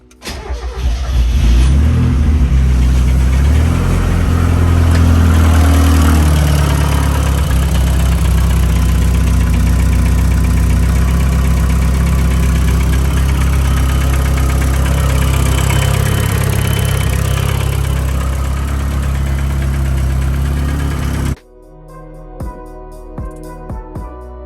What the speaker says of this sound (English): I'll start it up and show you guys the tick right now